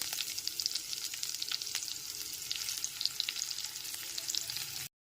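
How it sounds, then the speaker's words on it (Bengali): Two medium chopped onions frying over a medium flame in hot tempered oil for aloo dum, a dense, continuous close sizzle with faint stirring and no talk, cut off abruptly at the end. "পেঁয়াজগুলোকে হালকা বাদামি করে ভেজে নেব"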